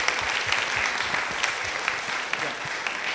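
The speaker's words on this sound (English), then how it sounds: "May I request the delegates to give a round of applause to our panelists." Round of applause from delegates for panelists at an expert medical panel, even, sustained clapping from a seated audience that fills the room and keeps a steady level throughout.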